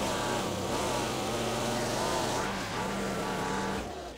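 A small Chinese mini skid steer's engine drones steadily and close as the machine lifts its load and reverses, the motor note holding even before easing off at the end.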